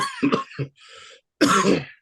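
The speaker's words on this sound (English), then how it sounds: "This cough came out of nowhere." A person coughing several times in quick, harsh bursts, close and loud, with a brief throat-clearing rasp between them.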